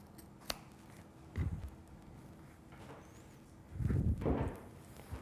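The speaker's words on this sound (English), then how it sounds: "I'm going to just trim it a little bit so it'll be easier to put the beads on" Scissors trim a thick leather lace for a bead pouch at a workshop, giving a few soft, close snips and rustles spread over a quiet moment, with a sharp click early on.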